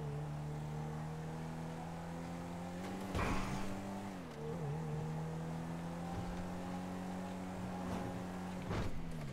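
A car drives steadily in GTA 5, its engine a sustained tonal hum with the pitch dipping and rising through gear changes, accompanied by a couple of brief louder bumps and no talking.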